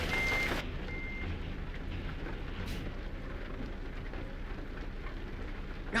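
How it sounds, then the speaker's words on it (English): Steady rain hisses in the Euro Truck Simulator 2 driving game, a constant even wash of noise, with brief electronic reversing beeps early on. "Gosh, it looks like it's cleared up out, but yet it's still raining."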